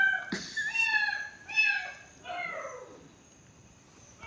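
A pet cat gives three drawn-out meows in quick succession, close and clear, with the last one softer and lower, and nothing else heard between them.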